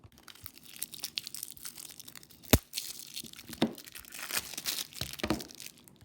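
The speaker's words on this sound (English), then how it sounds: "Let's unwrap our deck of cards." A deck of playing cards being unwrapped, with close, quiet crinkling and tearing of plastic wrap and one sharp crack partway through, and no voices.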